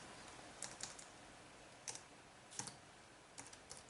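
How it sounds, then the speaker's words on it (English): Someone types a search string on a computer keyboard, producing short bursts of soft, quick key clicks separated by pauses, faint and near against a low room hiss. "you can also type in a string in quotes"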